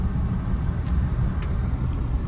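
A car engine accelerating while climbing a bridge, heard from inside as a loud, steady low rumble of engine and road noise with no talk.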